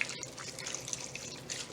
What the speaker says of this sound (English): I'm going to add in 4 cups of vegetable broth.